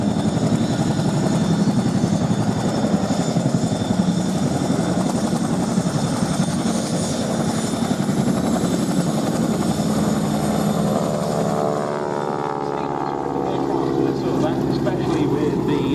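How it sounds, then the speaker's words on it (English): A Boeing Stearman biplane with an uprated 450 horsepower Pratt & Whitney radial engine drones loudly and steadily during display flying at an air festival, the pitch shifting as it passes, with a commentator talking over it. "Uprated 450 horsepower Pratt & Whitney engine that these ones have got."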